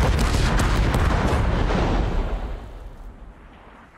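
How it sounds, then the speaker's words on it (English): Heavy action-movie explosions from the film Angel Has Fallen, a dense rumbling barrage of booms and blasts that hits loud at once and then tails off into a fading roar. "We're gonna keep going with these explosions."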